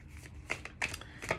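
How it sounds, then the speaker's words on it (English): Shuffling of a large, cumbersome Druid Craft Tarot deck, with three soft riffling bursts of cards rubbing and slapping together over a faint room hum, close and quiet. "It's difficult to shuffle."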